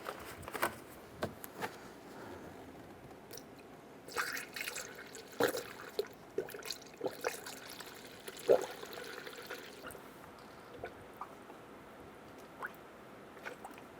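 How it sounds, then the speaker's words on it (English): Coolant pouring into the engine of a 2008-2012 Honda Accord during a water pump replacement, a faint trickle with scattered drips and small glugs, fairly quiet and close, no talking. "I'm going to go ahead and add coolant."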